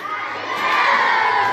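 Primary and preschool children in a crowd shout and cheer together in one loud, steady roar that swells a little midway, close and sustained.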